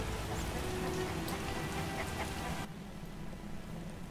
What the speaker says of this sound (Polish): Dawno już tak nie padało.